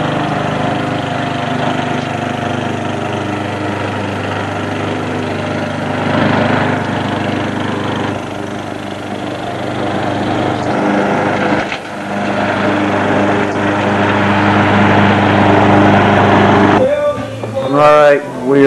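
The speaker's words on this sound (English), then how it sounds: "Big horsepower motor." A big-horsepower engine runs steadily in a converted 1998 vehicle, a loud continuous drone close by with a few level shifts, ending in a brief burst of other sound.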